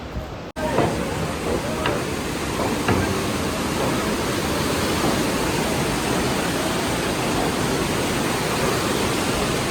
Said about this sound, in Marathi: मित्रांनो ही जी वाहते ना ती यमुना नदी आहे